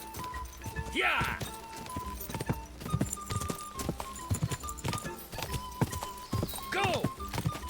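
Galloping horse hooves in Kingdom Come Deliverance II pound in a quick, continuous rhythm up close, broken by two loud neighs, one early and one near the end, with speech over the top.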